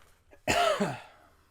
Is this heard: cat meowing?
no